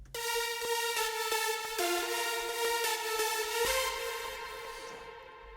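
A bright synth lead steps through a melody drenched in reverb with no sidechain compressor, the wash staying full under every note and ringing out into a long fading tail at the end.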